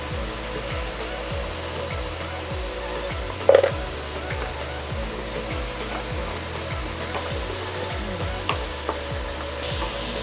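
Coriander paste fries in oil for a cashew coriander pulao, giving a steady, loud, broadband sizzle with a faint low pulsing underneath and one brief clink, and no voices.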